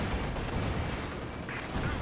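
Sustained battlefield din from a WWII strategy game, with continuous tank and anti-tank gunfire layered into a dense, steady roar and a brief brighter burst near the end.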